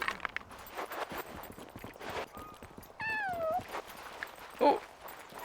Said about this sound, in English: It also sounds like there's a cat nearby.